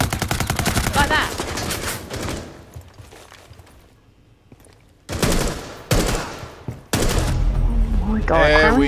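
Gunfire in Rainbow Six Siege, loud bursts of rapid automatic shots in several clusters separated by short lulls, with players talking over the shooting.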